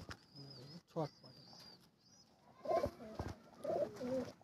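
Soft coos and rustling from tournament racing pigeons, with a thin high chirp early on; people speak nearby between the calls, fairly quiet overall.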